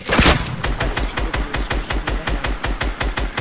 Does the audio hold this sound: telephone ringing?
no